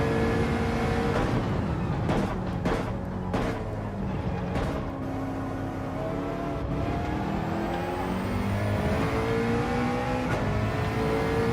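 Racing car engine in Gran Turismo 7, a steady loud drone with rising and falling revs, gear-change dips and a few sharp shifts across the lap, with no talking over it.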